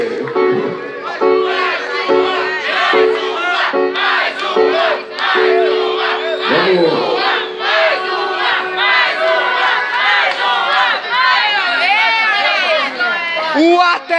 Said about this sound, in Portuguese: Um salve de palmas aqui no nosso irmão aí.